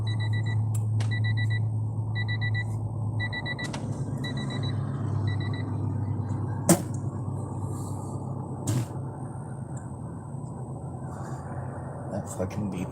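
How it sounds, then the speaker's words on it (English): Electronic beeps sound in short paired bursts, about six quick repetitions in the first seconds, over a low vehicle rumble, followed by a few sharp knocks and a quiet lingering hum. "That fucking beeping drives me goddamn nuts."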